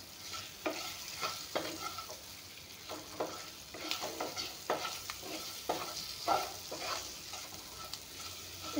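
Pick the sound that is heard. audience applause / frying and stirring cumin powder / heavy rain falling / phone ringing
frying and stirring cumin powder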